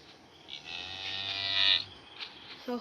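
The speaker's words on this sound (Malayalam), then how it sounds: "പശുവിൻ്റെയൊക്കെ ആ വിളി" Cattle mooing in a village setting: one long drawn-out low moo swelling to a loud peak, followed by a shorter call and a brief final sound, with no talking.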